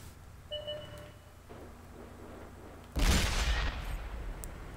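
Video game gunfire erupts in a sudden loud burst of rapid shots partway through, following a quieter stretch with a couple of short electronic beeps, then trails into a lingering noisy rumble.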